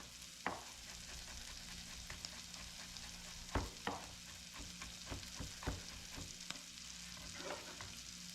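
Garlic sizzles as it fries in a pan, a constant crackling hiss broken by sharp scrapes and clacks of stirring at irregular moments, with no one talking.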